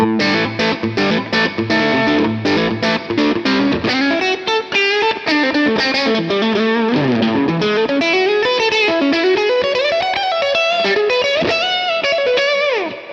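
An electric guitar, a Fender Telecaster played on its middle pickup, loud and close with distortion and effects, fast picked notes at first giving way to sustained bending lead lines.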